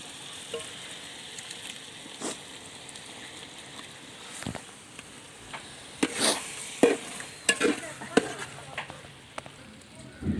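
Kerala-style chicken perattu with tomato paste being stirred in a pan: a low steady sizzle, with scattered scrapes and knocks from the spoon becoming more frequent toward the end, fairly quiet, with a voice talking over it.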